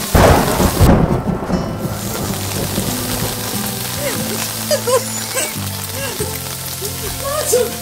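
Heavy rain pours steadily with thunder rumbling in the opening seconds, a loud, dense wash of rain continuing throughout with a low droning tone underneath.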